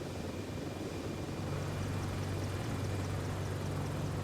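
A KwikFlight AH-64 Apache helicopter lifts off in the MSFS 2024 flight sim. Its steady engine roar and rotor drone fill the whole clip and build slightly as it rises, with a low rotor hum growing stronger partway through.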